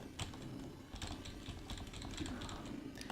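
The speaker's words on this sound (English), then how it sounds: "I'm button mashing a little bit here." Rapid, irregular clacking of computer keyboard keys being button-mashed during a game of Final Fight, close and steady for a few seconds.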